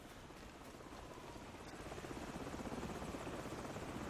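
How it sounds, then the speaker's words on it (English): A helicopter in Call of Duty 4: Modern Warfare: the rotor thumps steadily under a broad engine roar, growing slightly louder as it draws closer. "I'm waiting for the helicopter to come"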